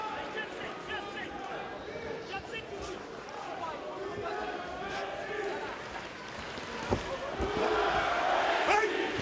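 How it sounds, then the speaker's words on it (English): Boxing crowd at a Lukas Konecny versus Salim Larbi bout, a dense continuous roar of voices that swells louder near the end, with a ringside commentator talking over it. "Crowd responding to everything that he's throwing."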